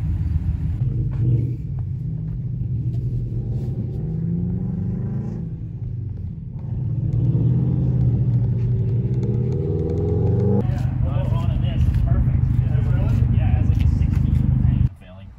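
Cars being driven to storage give a continuous close engine rumble that swells and shifts as they move, with speech heard over the drone and the sound cutting off abruptly at the end.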